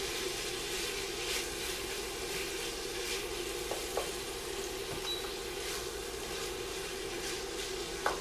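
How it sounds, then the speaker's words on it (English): Ground beef searing over medium-high heat in a pan, giving a steady, even sizzle throughout with a few faint clicks, and no voices. "this is to get our ground beef nice and seared and crispy"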